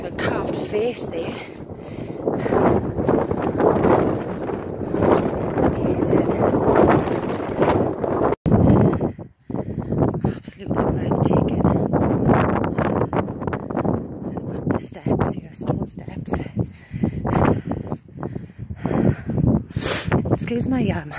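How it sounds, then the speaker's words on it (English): Steady roaring wind buffets the microphone throughout at a hilltop quarry, with a brief lull midway, while a person talks and breathes heavily close by. "It's a bit windy up here."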